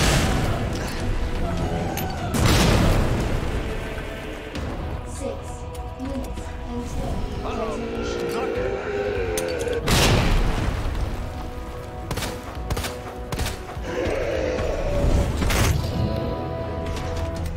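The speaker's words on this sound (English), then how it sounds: "even grenades don't do much" Grenade blasts in the Resident Evil 2 Remake, two heavy booms a few seconds apart standing out over a dense, continuous game soundscape with someone talking through it.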